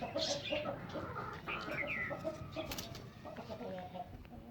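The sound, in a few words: chickens clucking while being fed grain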